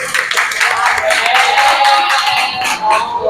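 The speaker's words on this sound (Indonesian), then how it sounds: "tepuk tangan buat Farid" Eighth-grade students in a classroom at SMPN 101 clap together for a classmate, a brisk burst of hand claps that runs the whole time with a voice rising faintly over it.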